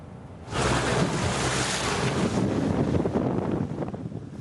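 Sailboats race at sea off Istanbul's Fenerbahçe Marina, with strong wind buffeting the microphone and waves rushing in a broad, continuous roar that swells after a quieter start.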